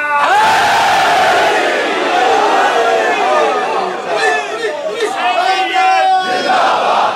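A large crowd at a Muharram religious gathering in Barcelona shouts a loud collective religious chant, many voices rising together in rhythmic bursts that fill the space.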